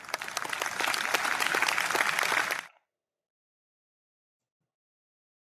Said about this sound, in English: they're clapping because of that move.